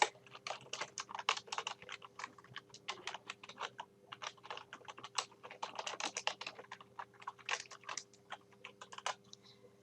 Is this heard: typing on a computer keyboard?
yes